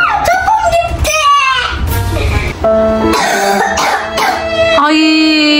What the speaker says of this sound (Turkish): Bak nasıl ciğerden öksürüyor.